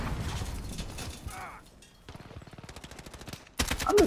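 Pistol shots in the video game Modern Warfare: short sharp gunfire bursts, with a rapid run of reports near the end, mixed with game sound effects and faint background noise.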